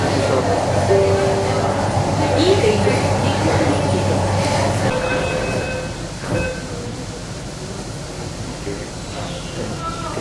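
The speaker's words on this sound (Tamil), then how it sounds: "பெங்களூர் மெட்ரோ ரயிலில்" Interior rumble of a Bangalore metro train riding along, steady rolling noise with occasional voices, the hum easing slightly toward the end.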